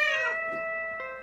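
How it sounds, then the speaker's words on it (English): A cartoon space cat gives a single clear, drawn-out meow that is close and fairly loud, then fades out quickly. "Violet, you be a good cat and stay here."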